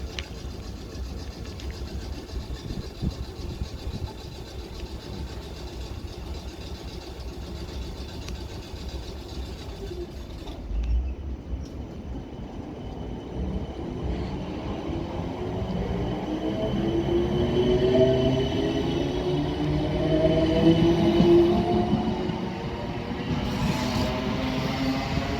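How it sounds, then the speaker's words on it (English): A South Western Railway electric train departs Raynes Park station bound for London Waterloo, a steady rumble of wheels and traction motors rising in a gradual whine as it pulls away, heard alone without talk. "getting ready to depart now is the 1310 South Western Railway service to London Waterloo"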